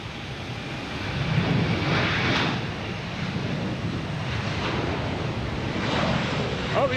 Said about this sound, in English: We have a JetBlue heading to Portland,